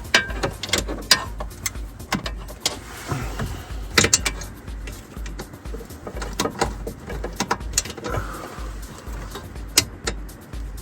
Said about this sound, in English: I'm gonna need a longer ratchet.